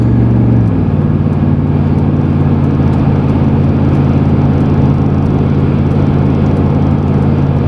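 A car engine hums loudly and steadily, with a brief shift in tone near the start as it moves into gear and pulls away under a constant drone.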